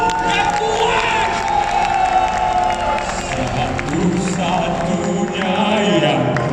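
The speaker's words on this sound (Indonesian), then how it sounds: "Beri tepukan yang gemuruh, yang kuat." A church congregation or crowd cheers, whoops and claps loudly for several seconds, a dense roar of voices and applause filling the space, with shouts rising above it.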